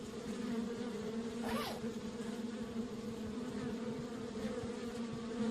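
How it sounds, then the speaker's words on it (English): Bees buzz steadily in the Kelvin and the Infamous Machine video game, a faint continuous drone under a low hum with a brief rising whine partway through, and no voices. "The bees won't let me get close enough."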